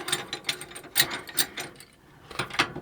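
A ratchet socket wrench turns on a 1946 Chevy steering part, giving close clicking bursts of ratcheting with brief pauses between strokes.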